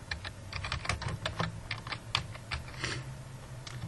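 Rapid, uneven keystrokes on a computer keyboard while entering spreadsheet headings in Excel, close and moderately loud over a low steady hum, with no talking.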